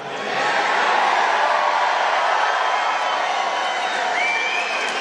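A large crowd of NRA members at a rally in Harrisburg, Pennsylvania cheers and whoops in a sustained roar. It swells quickly and stays loud, and a shrill whistle rises briefly toward the end.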